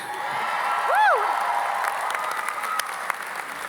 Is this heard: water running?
no